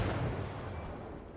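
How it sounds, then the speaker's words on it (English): Warship guns fire armor-piercing shells at a Yamato battleship in World of Warships, a booming low report that rolls into a fading rumble over about a second and a half, fairly quiet. "This is, for instance, why I'm firing AP at this Yamato instead of HE."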